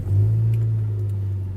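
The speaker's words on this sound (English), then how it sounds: "You go to start the car" A car engine turns over and settles into a steady, loud low idle rumble heard up close, with no voices.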